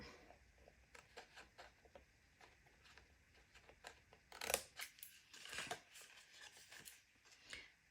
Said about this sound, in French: On prend son ciseau.